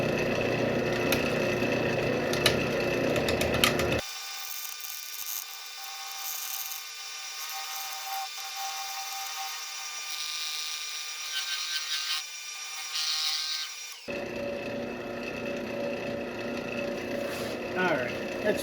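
A power sander works over a wooden bowl, a steady close whirring grind lasting about ten seconds, with quieter shop sound and voices before and after.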